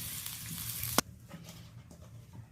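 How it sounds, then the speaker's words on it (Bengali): Potatoes fry in oil in a pan with a continuous crackling sizzle, loud at first. A sharp knock cuts it short, and the frying carries on softer afterward. "আলুটা ভালোভাবে ভেজে নিলাম, বেশ লালচে করে ভাজা হয়ে গেছে"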